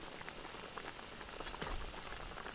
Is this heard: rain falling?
yes